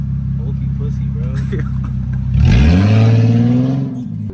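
An Infiniti G37 with no exhaust system idles with a steady low drone, then revs sharply and holds a loud, rising raw engine roar before easing off, close by.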